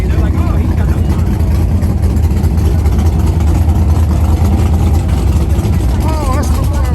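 Car engine running at an outdoor car show in Edmond, Oklahoma, a loud steady low rumble throughout with crowd chatter and people talking over it.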